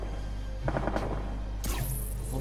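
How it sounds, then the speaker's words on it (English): Video-game gunfire rattles off in a quick burst of close, sharp shots over a steady low background hum, followed by a brighter crack and a lingering noisy tail. "It's gunfire too"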